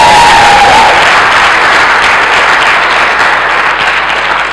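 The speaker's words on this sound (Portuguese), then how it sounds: "Uma salva de palmas para o João!" Loud, sustained applause from a large conference audience fills the clip, dense clapping that slowly fades slightly toward the end.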